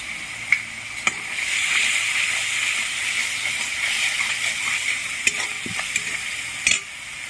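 Masala with ginger paste, chopped tomato, salt and soaked chili powder fries in a pan, giving a steady close sizzle punctuated by sharp clicks and scrapes of the stirring spoon.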